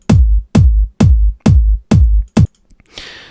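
Processed kick drum sample for a trance track, EQ'd with the area around 1.5 kHz cut and glued with a compressor, striking six deep, punchy hits in steady rhythm, followed by a brief noisy tail.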